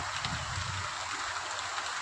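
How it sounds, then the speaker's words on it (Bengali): Heavy rain pours outside a house, a steady, dense hiss of falling water that stays even and unbroken throughout, with no voices. "অনেকটাই কিন্তু বৃষ্টি হচ্ছে।"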